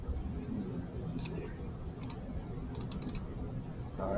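Computer mouse clicking while editing a model in SketchUp, a few sharp close clicks in small clusters over a steady low room hiss, with no talking.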